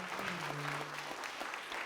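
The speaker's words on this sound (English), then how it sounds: "Give him some applause, would you?" Applause from the audience at a big band Christmas benefit concert: a faint, steady patter of many hands clapping in a hall, with a voice over it.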